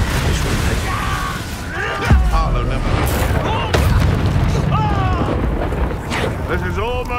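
Confringo spell explosions from the Hogwarts Legacy video game boom loudly at a couple of moments amid constant combat noise, with voices calling out over the fight.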